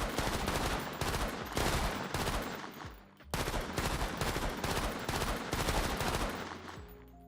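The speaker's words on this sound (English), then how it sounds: "I have no idea how to adjust the turret's sound" Turret in the Persist Online game firing continuously in dense, loud automatic bursts, with one brief pause before the rapid fire resumes.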